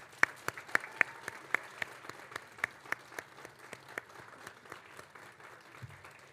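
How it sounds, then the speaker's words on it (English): A graduation ceremony audience gives scattered, sparse applause, with individual claps standing out as distinct sharp hits in a quiet hall rather than a dense roar. "join me in a round of applause"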